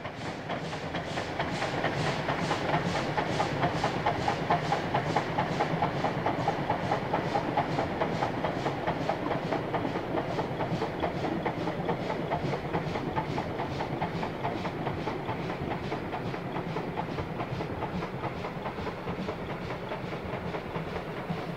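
A DB class 50 steam locomotive hauling a train past on the railway near Ulm in the Bundesbahn era, a steady loud rolling rumble with rapid rhythmic clickety-clack of wheels over rail joints throughout.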